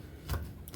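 Garlic cloves are chopped with a knife on a board, two distinct sharp thuds close by in a quiet kitchen.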